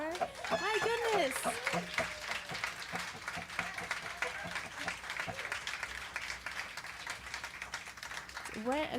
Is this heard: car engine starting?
no